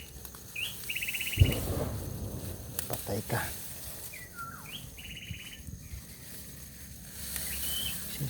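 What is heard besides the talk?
bird whistling and chirping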